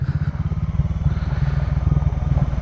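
Motorcycle riding slowly over a rough, broken and narrow mountain road, its low engine chugging steadily and close throughout with faint rattling, no voices.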